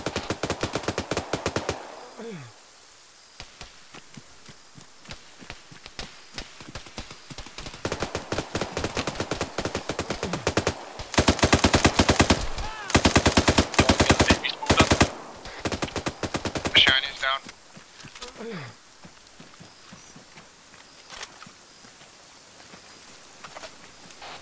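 Gunfire in the video game Operation: Lost Missions, with rapid automatic bursts and dense crackling volleys in several long stretches, separated by quieter gaps and a few falling whooshes.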